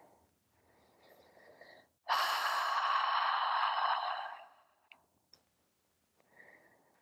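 Deep yoga breathing during home practice on a mat in a tiny bathroom space: a soft, close inhale, then a loud, long sighing exhale lasting about two seconds, a quiet pause with faint clicks, and another soft inhale beginning. No talking.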